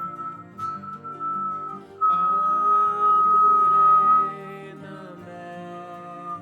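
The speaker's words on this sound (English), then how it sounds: "we're going to start whistling while we inhale." A man whistles while inhaling as part of a guided breathing exercise, producing a sustained, wavering breathy tone that swells and fades over several seconds, close and alone.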